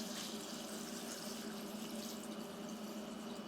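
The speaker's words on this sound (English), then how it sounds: "Immediately take this and pour it into our sauce." Liquid pours steadily into a batch of mild to mid-level homemade hot sauce made with 7-Pot and sweet peppers, a continuous close splashing stream with no talk.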